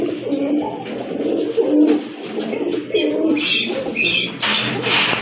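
A pair of sky-blue Rajgolla pigeons coo in repeated low rolling phrases, close and fairly loud, with a few brighter chirps and rustles toward the end.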